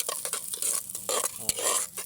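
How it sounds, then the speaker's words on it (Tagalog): A metal cooking pot clanks and scrapes as garlic and onion are stirred and sautéed, with repeated irregular stirring strokes over a steady frying sizzle, close and fairly loud with no talking. "Naririnig niyo ba yung kalantog ng noise ng kaldero?"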